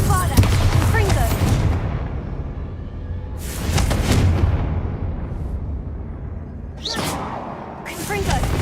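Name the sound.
Bombarda and Confringo spell blasts in Hogwarts Legacy video game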